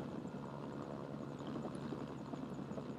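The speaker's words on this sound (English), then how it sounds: "So it served its purpose, it was a cheap helicopter, no complaints." Helicopter in the video game Mercenaries: Playground of Destruction, a low, faint, steady rotor and engine drone that holds without change throughout, with no talking.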